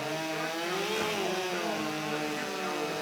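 STIHL chainsaws rev loudly during a timbersports hot saw race, a sustained high-pitched whine with rising and falling engine pitch and no break.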